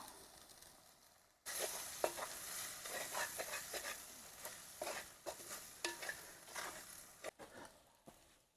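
Turmeric is stirred into ginger-garlic paste frying in a pan for a country chicken curry. A quiet moment gives way to a loud sizzle broken by repeated scraping stirs.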